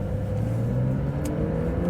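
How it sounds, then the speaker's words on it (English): A Porsche 911 Dakar revs its engine as it pulls out, a steady, loud mid-pitched drone holding evenly from inside the car with no talk. "you get the sense it is a more serious kind of seriously loud machine than a normal 992 Carrera 4S"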